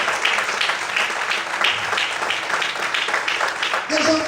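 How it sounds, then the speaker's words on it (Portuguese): A church congregation applauds steadily for several seconds, a dense wash of clapping that fills the room. "Todos podem aplaudir e exaltar ao Senhor por isso."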